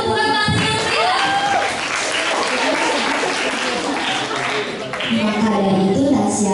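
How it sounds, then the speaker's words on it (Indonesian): Lively audience applause at a school graduation send-off ceremony in Kupang, loud and sustained, with voices and scattered cheering mixed into the clapping. "Sekali lagi mari kita berikan tepuk tangan yang meriah."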